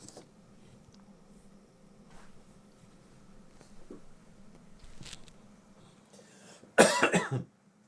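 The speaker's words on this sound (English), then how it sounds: "I just had to cough again" One sharp, loud cough near the end, following quiet background noise and faint scattered sounds.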